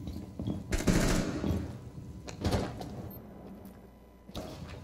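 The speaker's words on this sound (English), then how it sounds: "Another nade coming in from kitchen window." Grenades go off in a Rainbow Six Siege pro league match on the Chalet map, with booming blasts and loud gunfire-like crackles close by, followed by a fading rumble and another sharp hit at the end.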